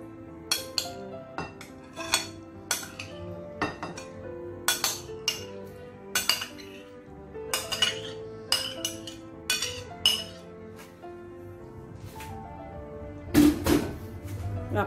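Chopped fruit and custard being mixed together in a bowl for a fruit trifle, with a steady run of sharp clinks and taps of a utensil against the dish, close and clear, with quiet gaps between strokes.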